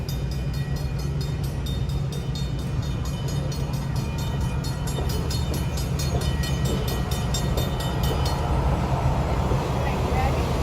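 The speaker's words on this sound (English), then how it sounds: "We got a train pulling in at the station." A train pulls into a station by a lake in New Hampshire with a constant heavy rumble of rolling cars and a rapid metallic ringing that stops near the end, heard outdoors and close by.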